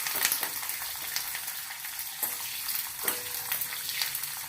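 Green chillies frying in hot oil for a khaman dhokla tempering, a close, continuous sizzling crackle with occasional stirring scrapes and pops.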